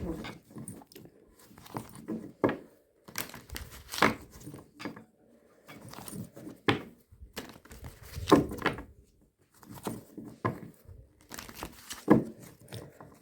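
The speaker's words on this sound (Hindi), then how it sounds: "तो मैं ये आपके सामने शफलिंग कर रही हूँ इन कार्ड्स की।" Tarot cards are shuffled close up in soft, uneven bursts of riffling and slapping, with short pauses between each handful and no talk over them.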